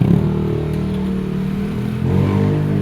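A motorized tricycle's engine runs with a steady, rough mid-range drone and clattering pulse, rising briefly near the end as it revs, heard alone without speech.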